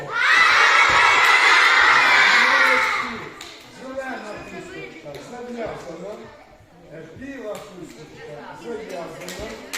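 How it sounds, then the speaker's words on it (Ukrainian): Children at a charity show in a school lyceum shout a word together in a loud, sustained burst lasting about three seconds, then an adult speaks over scattered murmurs from the young audience. "Діти крикнули чарівне слово."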